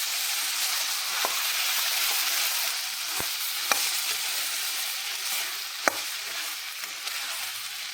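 Curry is stirred and mixed as it fries in a pan, a steady loud sizzle running throughout with occasional sharp scrapes and clicks of the spoon against the pan.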